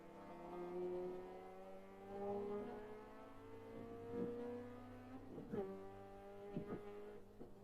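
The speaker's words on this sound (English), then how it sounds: "it's almost like it's cutting in and out of VTEC more than anything else." A race car engine at Daytona drones in the distance with layered harmonics that rise and fall, stuttering and cutting in and out toward the end, fairly faint overall.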